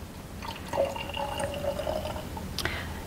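A cup and a half of filtered water is poured, making a soft, steady trickle for about a second and a half over faint room noise, then a brief clink near the end.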